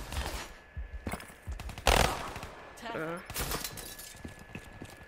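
Gunfire in the video game Call of Duty Black Ops III, scattered sharp shots and a brief burst under a player's frequent talking, moderately loud with a crash near the middle.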